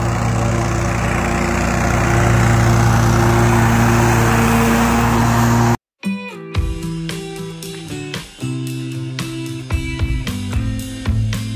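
A lawn mower cuts tall grass with a loud, steady engine drone for about six seconds, then stops abruptly and gives way to a different sequence of clattering tonal sounds.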